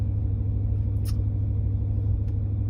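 A car driving with an aftermarket stage 2 setup, heard from inside the cabin as a steady low road and engine rumble with one faint click partway through and no talking.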